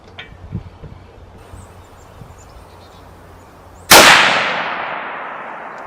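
A Winchester XPR bolt-action rifle in 6.5 Creedmoor fires a single sharp, very loud shot at a range after faint background noise, the blast ringing out and decaying over a couple of seconds.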